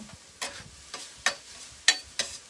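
Vegetables tipped into a hot frying pan for a frittata, giving a few separate soft rustling clatters and brief sizzles spaced about half a second apart, close and fairly quiet, with no talk.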